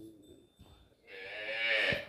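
A good-quality cow lets out a single drawn-out moo, close and fairly loud, rising after a short quieter stretch with faint background noise.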